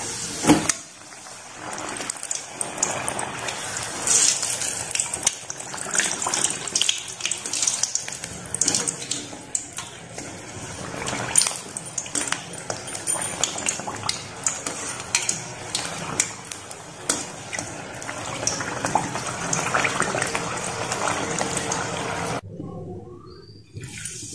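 Besan papad fry in hot oil with a continuous, bubbling, rushing sizzle close by, with occasional clinks of a utensil, before cutting off into silence at the end.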